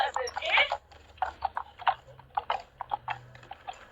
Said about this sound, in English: This is when I'm slowing down because two horses are coming towards me.